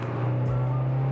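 A Honda Integra GSR with an eBay exhaust drones loud and steady at close range for a brief moment, a continuous engine tone with no speech over it.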